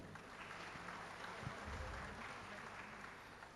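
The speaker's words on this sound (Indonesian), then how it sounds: "Tepuk tangan buat kita semua." Graduation crowd at Universitas Sumatera Utara clapping in a large hall, a soft, steady, distant wash of applause with no voices over it.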